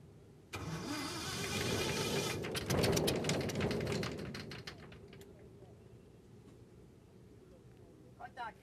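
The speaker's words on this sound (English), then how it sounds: "Then a battery is brought in to kickstart the engine." A vintage aircraft engine is kick-started with a battery: the engine catches suddenly and roars loudly, then sputters and fades out into quiet, with voices calling out nearby.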